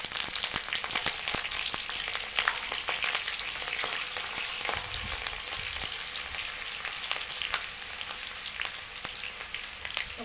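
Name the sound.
garam masala and chillies frying in a pan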